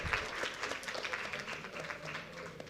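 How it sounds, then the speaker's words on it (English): Seminar audience giving a round of applause, a fairly faint, distant spread of many hands clapping continuously throughout. "Can we give them an energetic round of applause?"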